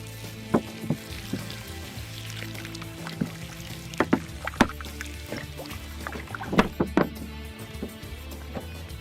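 Oats, bacon bits and fryer grease being stirred together in a barrel, giving sloshing, wet churning sounds and scattered knocks against the container at moderate distance.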